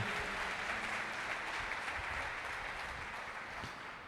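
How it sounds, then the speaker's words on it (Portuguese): A church congregation applauds loudly and steadily, a dense wash of clapping that holds for about four seconds and eases slightly near the end, with no talk over it. "Dê uma salva de palmas a Ele bem forte"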